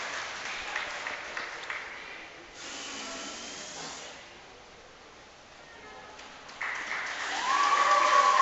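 Applause and cheering rise in bursts at a provincial bouldering finals, where clapping fades to a quieter murmur in the middle before swelling again, louder and closer, near the end.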